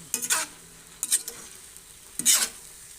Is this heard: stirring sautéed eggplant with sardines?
yes